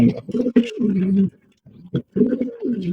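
King pigeons cooing close by in a loud, repeated series of deep, throaty, rolling calls separated by short pauses.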